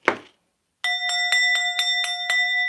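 A small hand bell rings in a quick, even run of about eight bright strikes after a brief breathy sound, close and clear with no talk over it.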